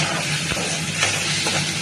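Spice paste for ghugni hits hot oil in a pan, a loud, steady hiss and sizzle that fills the whole stretch with no talking.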